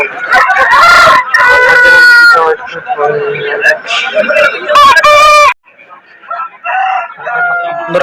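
Roosters at a poultry market give loud, close crows alongside clucking, mixed in with someone talking over the birds.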